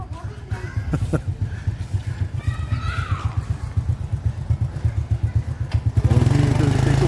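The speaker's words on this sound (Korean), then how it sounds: "요 강아지가 지금 오토바이 막 쫓아다니고 있어." A motorcycle rides past at the Pha That Luang temple grounds in Laos, its close, rapid putter pulsing steadily before the engine revs louder near the end, with a brief voice and laughter early on.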